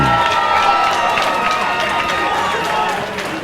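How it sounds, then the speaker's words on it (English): Audience at a Muay Thai kickboxing title fight applauds and cheers the challenger, a dense, loud wash of clapping and crowd noise that fades slightly toward the end. "also a round of applause for the challenger"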